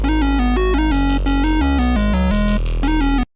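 Harsh square-wave lead synth patch in Serum playing a bright, buzzy melodic line with stepping notes, loud and steady throughout, alone with no voices, cutting off abruptly at the end.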